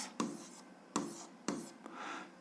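A pen writes an algebra equation on paper, four short scratchy strokes in an uneven rhythm, close and quiet, with no voices.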